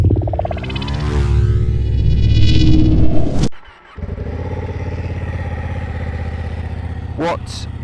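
A BMW K100 cafe racer motorcycle rides by loudly, its engine droning and rising in pitch, then briefly cutting out before resuming a steady close rumble.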